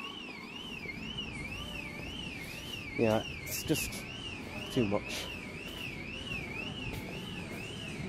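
A car alarm wails outdoors with a steady rising-and-falling warble that runs throughout, loud and persistent, while a person talks briefly over it.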